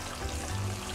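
Whole spices, cinnamon, bay leaf and small green cardamom, sizzle in hot oil for a chicken white karahi, giving a steady, soft frying crackle with no talking.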